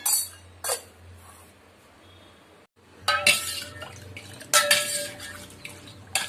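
A spoon stirs pepper powder into a coconut milk drink, giving scattered clinks and a faint metallic ring against a vessel, with quiet gaps between the bursts, close by.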